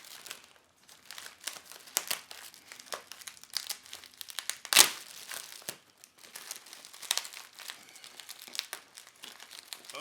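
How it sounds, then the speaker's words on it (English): Bubble wrap and packing tape crinkling and crackling at close range while a Pflueger President Limited Edition reel is unboxed, with irregular bursts of rustling and one sharp loud tearing rip partway through. "the tape keeps sticking back together on this bubble wrap"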